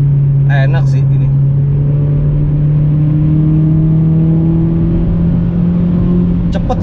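A Toyota MR2 W20 (second generation) pulls hard during a test drive, its engine droning loud and close inside the cabin with a steadily rising pitch as it accelerates.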